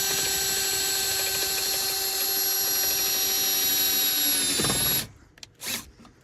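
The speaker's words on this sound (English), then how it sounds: "So we're just going to go in here, and we're going to drill a hole." A loud, high-pitched power drill whines steadily for about five seconds while drilling a hole in plastic in a Freightliner truck cab, then stops abruptly, followed by a couple of brief scraping clatters.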